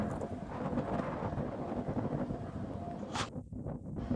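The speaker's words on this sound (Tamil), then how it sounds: "காற்றும் அடிக்குது" Steady wind blows across a large open lake beside a hilltop temple, a continuous, fairly faint rushing roar with microphone buffeting and no clear voices.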